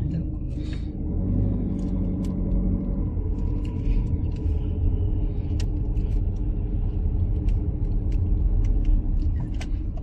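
A car pulls along during a driving lesson, its engine a steady low rumble that holds throughout, with a few faint clicks and some talk inside the cabin.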